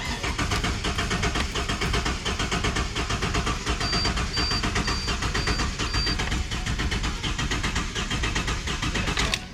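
A Ford EF XR6 barn-find engine cranks on a weak battery with its number one spark plug removed, giving a steady rhythmic starter churn and whirring that runs continuously without catching, close and fairly loud.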